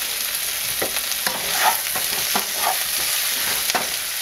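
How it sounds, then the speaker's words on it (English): Steamed Brussels sprouts and garlic fry in a pan over medium-high heat with a bright, steady sizzle and repeated spatula scrapes and knocks, close and fairly loud, with no talking. "before it has a chance to burn, we're going to add our steamed Brussels sprouts"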